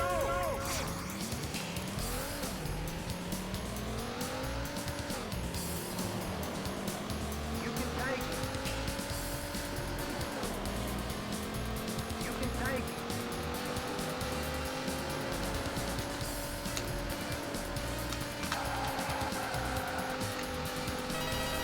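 Race car engines whine and rise in pitch continuously in the Daytona USA arcade racing game, with tire squeal and steady loud engine drone throughout, under game music and commentary.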